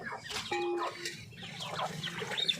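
Chickens in a village: soft, scattered clucks and brief squawks at moderate distance over a low background murmur, with no clear talk.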